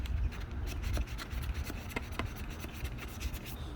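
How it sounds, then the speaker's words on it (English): Hand sanding a small crevice in a plastic taillight from a 1996 GMC Yukon, a quiet, close, rapid scratchy rubbing with short repeated strokes and no talk. "I'm going to hand sand this little crevice"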